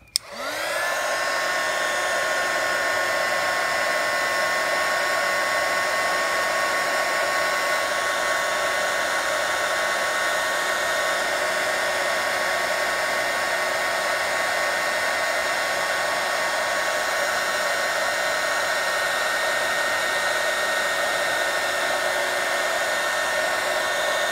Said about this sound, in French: Après je mets ma gaine et je la fais chauffer et ça rétracte dessus. Petit coup de décapeur.